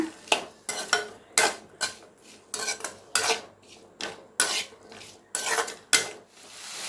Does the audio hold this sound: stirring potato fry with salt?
yes